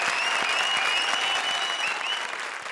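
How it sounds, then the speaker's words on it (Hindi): A studio audience at a Comedy Circus grand finale applauds steadily and loudly for the whole stretch, dense clapping with a faint tonal whistle-like sound riding over it. "जोरदार तालियां राजीव और काम्या के लिए"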